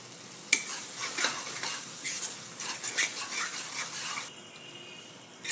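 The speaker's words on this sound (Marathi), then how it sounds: "बघा मसाला भाजला आहे आपला इथे तेल सुटलं मसाल्याला" Misal masala with chili powder, turmeric and salt roasting in oil in a pan, giving a steady close sizzle with repeated scraping and stirring strokes throughout, no talking.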